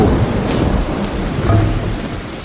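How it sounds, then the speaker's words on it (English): Rain pours steadily while thunder rumbles in a Minecraft thunderstorm, loud and close, with heavy low rolling booms beneath the constant patter. "Lightning."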